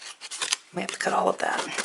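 Close scissors snip through paper for an envelope craft, a few short rasping cuts with a brief voice speaking over part of it.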